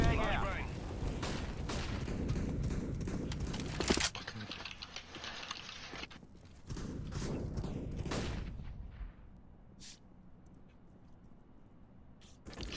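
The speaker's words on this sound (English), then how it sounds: "Flashbang out." A flashbang grenade and gunfire in the video game CS:GO, loud blasts and rapid shots that thin into quieter pops and scattered cracks, with people talking over much of the fighting.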